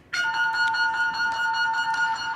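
A coded radio message carrying a missile unlock code: a steady electronic tone with a buzzy, harmonic edge holds almost unbroken for a couple of seconds, with slight pulses in its texture.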